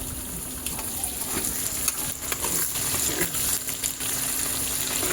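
Food lightly frying in a pan, a steady soft sizzle and crackle with faint bubbling throughout, close and even, no talk over it.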